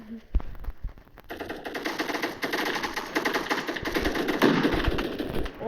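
Rapid automatic gunfire from a Roblox shooting game, a dense rattling stream of shots after a brief opening thump, building slightly louder toward the end.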